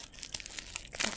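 Wrapped package being torn and crinkled open, a quiet, close rustle of paper with short crumpling bursts and a louder rip at the end.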